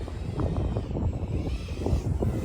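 A 5-inch freestyle FPV drone in flight, a loud close buzzing whir with wind rush that swells and shifts steadily, no voices.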